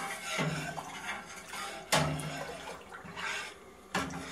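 Homemade yogurt pre-mix is stirred in a container, giving close, uneven scraping and clinking strokes with a few sharper knocks.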